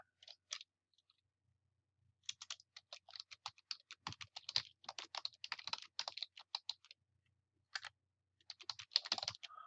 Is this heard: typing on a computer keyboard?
yes